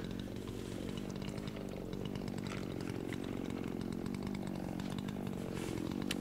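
Chainsaw cutting timber in a logging setting runs loud and steady throughout, its engine droning without pause at close range, with no voices over it.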